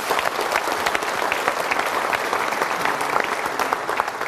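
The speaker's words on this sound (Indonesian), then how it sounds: "Tapi Brita berikan tepuk tangan dulu." Dense, steady applause from an audience at a talk show, a continuous wash of many hands clapping at even loudness throughout, with a faint crowd murmur and no talking.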